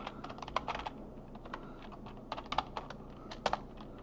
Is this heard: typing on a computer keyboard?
yes